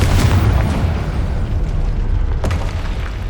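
A Confringo explosion spell cast in the video game Hogwarts Legacy: a loud, booming blast with a dense low rumble, followed by a sharp burst near the middle and no talking over it.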